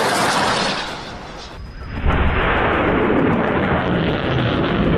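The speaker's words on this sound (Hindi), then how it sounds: "इसका एक वीडियो भी सामने आया है, जिसमें कई रॉकेट्स एक साथ फायर होते हुए नजर आ रहे हैं।" Several rockets launched at once during the Israel–Hamas war in Gaza: a loud, continuous roaring whoosh that dips briefly, then surges back and sustains.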